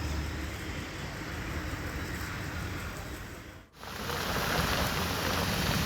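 Heavy rain pours down during a storm, a dense, steady hiss of falling water that drops out for a brief instant partway through before resuming just as strongly.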